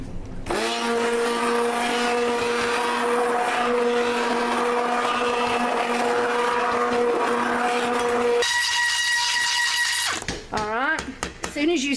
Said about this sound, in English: As soon as you see that it's blended,